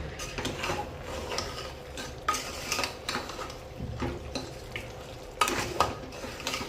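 Spiced Nagpur-style masale bhat is stir-fried in a pan with salt, a spoon scraping and knocking against the metal in uneven strokes over a faint sizzle, no voices.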